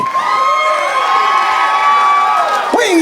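A crowd at a boxing event booing and shouting, a loud, continuous roar with shrill whistle-like tones running through it.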